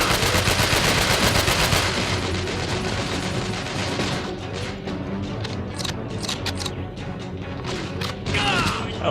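Bursts of AK rifle gunfire in the video game Chernobyl Underground crack loudly and densely, with sustained automatic fire at first, then thinning into separate sharp shots and mechanical clatter.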